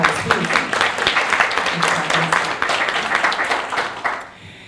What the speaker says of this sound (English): Yeah, round of applause, please.